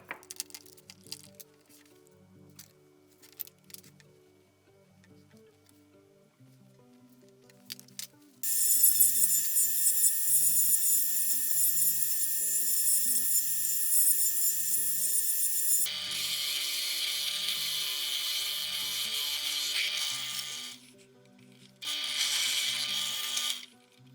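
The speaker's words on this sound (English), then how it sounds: "I actually prefer to do my rounding over on my sander." Electric sander rounding over the edges of wood pieces for a chair build, kicking in as a loud, steady high whine after quiet mechanical clicking, pausing briefly and then running again near the end.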